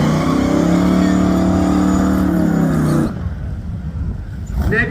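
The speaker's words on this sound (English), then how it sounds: "Nicholas Weeder comes up next, the 1985 model Z100 pickup truck" A 1985 Z100 pickup truck roars loudly down the strip at a drag race, engine droning close for three seconds, then cutting away to quieter track ambience with a rising rumble at the end.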